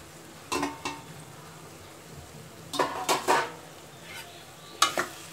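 Onions and spices sauté in a pan for a hotel-style plain vegetable salna, with a spatula clanking and scraping against the metal in short, spaced bursts over a faint sizzle.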